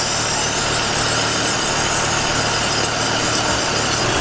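A car engine idles roughly because of a massive vacuum leak, giving a steady, close mechanical hum and vibration with no talking.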